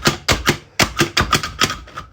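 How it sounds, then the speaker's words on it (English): A knife chops an onion on a board for soup, eight or nine crisp, loud thuds in a fairly quick, slightly uneven rhythm, close up with no talking. "Finally chopping an onion."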